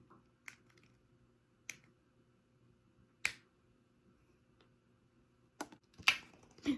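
Plastic caps are peeled off paint tubes one at a time, giving sharp isolated pops and snaps, quiet and close, separated by long pauses, with a cluster of quicker clicks toward the end.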